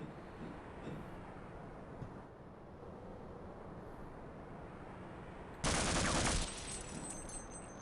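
A short, loud burst of automatic gunfire erupts over a steady low background hum during Half-Life play, lasting under a second before the hum continues alone.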